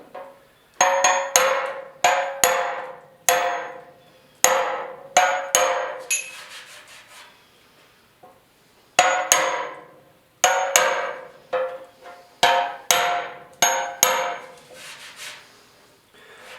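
A hammer taps down dents on the fuel tank of a 1974 Yamaha RS 100, sharp metallic knocks coming in quick clustered bursts with short pauses, close and loud with no voices.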